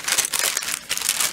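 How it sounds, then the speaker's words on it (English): Tissue paper wrapped around handmade mini album pages crinkles and rustles continuously up close, with a short pause midway before more crumpling. "Alright, so her pages are wrapped up in tissue paper."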